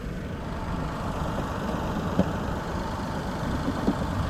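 The engine of a 2017 Nissan Pathfinder idles steadily at close range with its hood open, a low, even hum broken by a couple of faint clicks.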